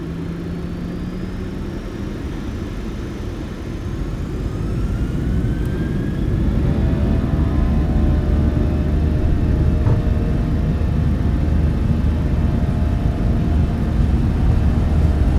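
Boeing 737 BBJ engines spooling up on the takeoff roll at Oporto in a PMDG flight simulator, a steady loud low rumble that swells after a few seconds and holds, with faint rising tones above it.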